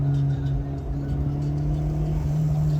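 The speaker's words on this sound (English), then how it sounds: "We're about to hop on the highway and give you a little taste of what this car can do." A Honda Integra making over 200 hp drones steadily as it pulls onto a highway. The engine hum stays constant and loud under cabin road noise, with a faint voice in the background.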